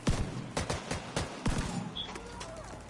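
Shotgun blasts in The Division 2, several sharp shots fired at irregular intervals over about three seconds, loud and close, with faint game ambience and a bird-like chirp between them.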